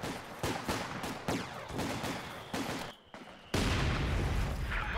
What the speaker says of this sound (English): Mortar firing on that central garrison